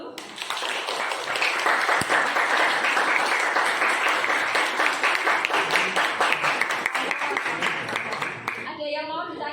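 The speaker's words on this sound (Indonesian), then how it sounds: "Oke, beri tepuk tangan dulu." Sustained applause from a classroom full of people, steady and dense for several seconds before tapering off at the end.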